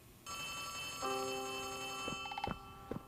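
An old-style telephone rings inside the Poppy Playtime Chapter 3 video game, a steady tonal ring with clicking bell strikes starting after a brief pause, heard over quiet game ambience with no talk.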